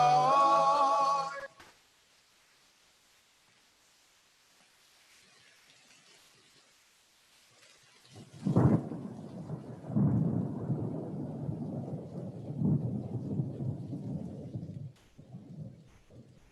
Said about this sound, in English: I guess they have to put that sound effect in because the album is actually called A Kumsitz in the Rain